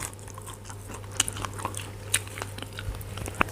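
Close, crunchy bites into a cooked chicken neck from a Yunnan-style stir-fried black chicken, with a few sharp cracks and soft wet chewing between them over a low steady hum.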